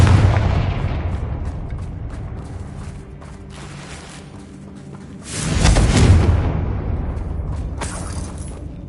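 Confringo blast-curse spell explosions in Hogwarts Legacy, a deep rumbling boom that swells again midway with crackling debris, loud and close with a lingering low roar.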